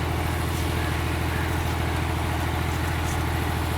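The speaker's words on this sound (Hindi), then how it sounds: "यहाँ पे ट्रैक्टर चल रहा है, ट्यूबवेल चल रही है" A tractor engine runs steadily in a field with a tubewell pump also going nearby, giving a continuous, loud, low rumbling idle with an even pulsing throb and no talk over it.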